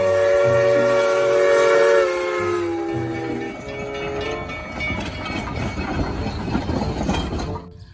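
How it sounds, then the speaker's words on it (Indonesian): A toy locomotive train runs with loud, steady rail rumble, clicking and whistle-like tones, changing pitch midway and continuing alone throughout without any talk. "kereta lokomotif."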